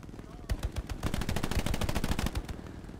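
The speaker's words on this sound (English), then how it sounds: "Can you hear that gun?" A machine gun in the video game Hell Let Loose fires a long, steady burst of rapid, evenly spaced shots, loud and close, starting after a short pause.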